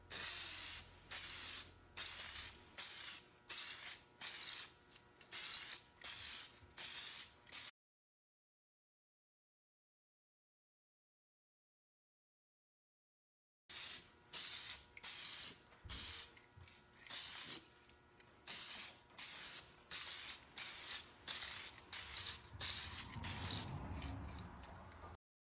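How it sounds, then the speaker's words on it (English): A spray gun lays a clear coat onto a car panel in short, regular hissing bursts with sharp clicks between them, followed by a long silent gap before another run of bursts. "So let's put our coat of paint on it and see how it works."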